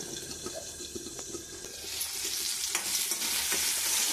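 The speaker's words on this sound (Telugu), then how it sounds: "మధ్య మధ్యలో అప్పుడప్పుడు కలుపుతుండాలి" Steady bubbling simmer with soft scraping stir strokes, getting a little louder and hissier toward the end, no voices.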